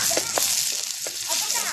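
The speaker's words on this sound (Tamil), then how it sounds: "வெங்காயம் வதங்குதுங்க." Onions sizzle and crackle in a hot pan with a steady frying hiss while cooking country chicken fry, with a few stirring scrapes and a voice speaking briefly in Tamil.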